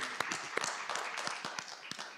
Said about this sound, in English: let's give our presenters a round of applause